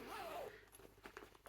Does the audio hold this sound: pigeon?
no